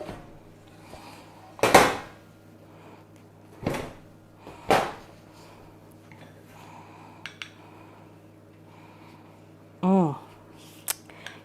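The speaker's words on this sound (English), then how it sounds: "I'm going to take it out of the pan." Sourdough sandwich bread being taken out of a metal baking pan, with a few loud clanks and knocks of the pan, softer rattles, and a squeaky scrape, amid quiet room sounds.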